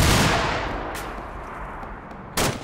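Gunfire in the Arma 2 military shooter game: a heavy, booming report that rolls off in a long echo, then a sharper shot near one second and another loud crack just before the end. No talking.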